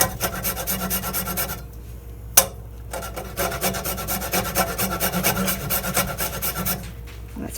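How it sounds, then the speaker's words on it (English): A whole nutmeg rasped against a grater in steady, rhythmic back-and-forth strokes, close and prominent, with a brief pause and a single knock partway through. "I'm going to grind a nutmeg."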